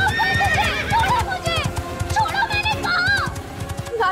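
A horse whinnies loudly several times, hooves clip-clopping in a fast galloping rhythm close by, amid a dramatic scene with shouting voices.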